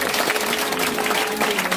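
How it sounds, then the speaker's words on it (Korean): Sustained applause from an audience at a Democratic Party gathering in a party members' hall, dense, even clapping filling the whole moment with steady intensity and no pauses. "그래서 이분들께도 큰 박수 한번 보내주세요"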